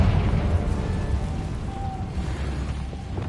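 A Confringo fire spell blasts in the video game Hogwarts Legacy, a heavy rumbling burst of fiery noise that sustains with a roaring, crackling texture before slowly thinning out, loud and close.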